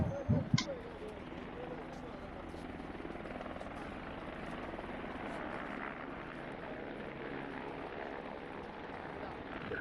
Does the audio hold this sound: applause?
no